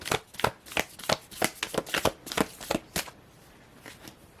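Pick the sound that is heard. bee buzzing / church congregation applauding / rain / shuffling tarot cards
shuffling tarot cards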